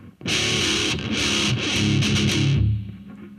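Loud, close distorted electric guitar plays a heavy metal riff pattern with a down, down, up, down strumming feel, dense chugging chords and short accented bursts over about three seconds before fading; no voices.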